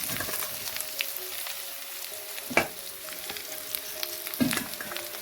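Bottle gourd leaves and onion frying in a pan make a soft, steady sizzle close by, with a couple of sharper clinks as the utensil knocks the pan.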